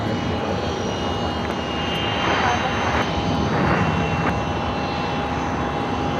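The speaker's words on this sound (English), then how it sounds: "This is a Hawker 900 XP" Jet engines of a Hawker 900 XP business jet at LAX, a steady broad roar with a faint whine that swells slightly midway, continuous and fairly close throughout.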